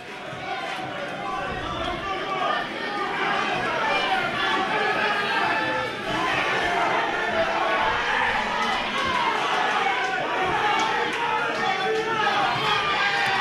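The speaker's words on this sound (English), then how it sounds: "A lot of support. It's going off in here. The crowd loves it." A crowd at a Peach Boxing event cheers and roars steadily for the whole stretch, a loud, dense wash of voices that holds without breaks.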